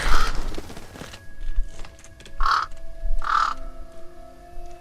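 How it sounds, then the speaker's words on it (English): Crows caw in a Game of Thrones episode, several harsh calls spaced over a few seconds, loud and close, over a low background hum and faint movement sounds. "I hate the crows."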